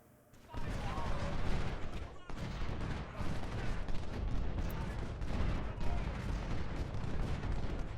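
Civil War troops fire volleys in a strategy game, a dense, continuous rolling crackle of massed musket fire that starts abruptly and keeps going without pause, with a voice talking over it.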